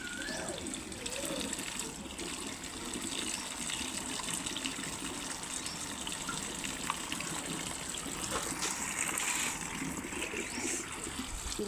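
Tap water runs steadily into a sink during washing, a continuous moderate gush with occasional splashes and clinks, no voices.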